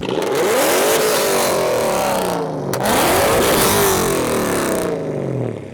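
A BMW E39 M5 engine revs hard repeatedly, pitch sweeping up and down in two long bursts, close by and dominating with no talking, at a car meet.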